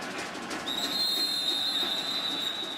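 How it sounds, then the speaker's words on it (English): A referee's whistle at a college football game, Central Florida at Ohio State, blown during a PAT attempt: one long, steady, shrill blast starting partway in and lasting about two seconds over faint stadium crowd noise. "Whistle on the PAT attempt."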